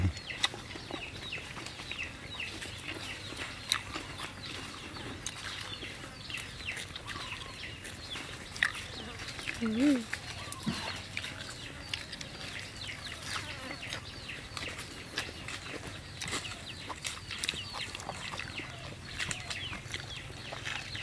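Chickens on a rural Thai homestead garden cluck and rustle faintly and intermittently over steady outdoor background noise, with a slightly louder burst around the middle.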